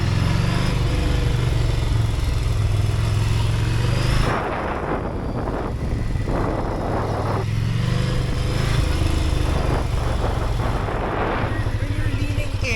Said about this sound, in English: Enjoy the sound of the Scrambler.